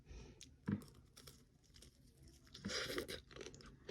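Crisp crunches of ice-coated tanghulu being bitten and chewed up close, two sharper bites followed by a softer stretch of grinding crunch, fairly quiet overall.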